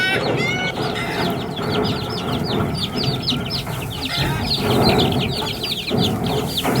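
A farmyard hen clucks repeatedly close by while her chicks keep up a busy chorus of high peeping around her, all continuous and fairly loud.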